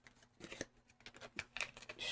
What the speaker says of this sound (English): I'm going to give these a good little shuffle.